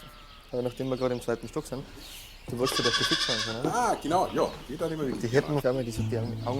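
Little goat bleats repeatedly in wavering, nasal cries, close and fairly loud, with a brief burst of bird-like chirping in the middle.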